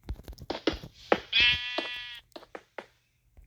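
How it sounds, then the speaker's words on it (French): Sheep bleating in the Minecraft video game: one long, wavering, clearly pitched bleat stands out in the middle, surrounded by short, quieter clicks and bursts of game sound. "Qu'est-ce qu'il y a le mouton?"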